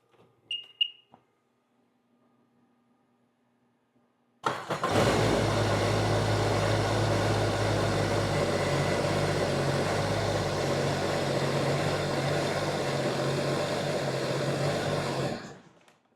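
A supercharged jet ski engine cranks over and catches, then settles into a steady, loud, even idle that runs close-up for about eleven seconds before cutting off, with a few faint knocks and quiet before the start.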